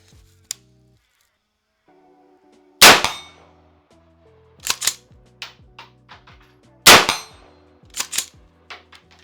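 Wedgetail MPR Mini .223 rifle fired twice at a steel target on a farm range, each sharp crack followed by a metallic ring, with faint ticks and small clinks between, outdoors and fairly close.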